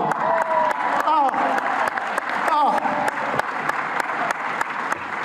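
A crowd at a Hispanic Heritage breakfast claps and cheers loudly and continuously, a dense wash of hands with whoops and voices rising through it, sustained at full strength from start to finish.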